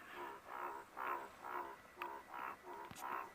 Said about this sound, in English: Some frogs are calling around here.